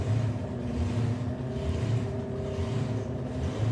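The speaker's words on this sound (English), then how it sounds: "You can hear the supercharged 350 cubic inch Chevrolet engine under the bonnet of the Copo." Steady low drone of a supercharged 350 cubic inch Chevrolet engine in a drag racing Copo at a drag racing event, a continuous rumbling hum with no distinct revving, heard alone without voices.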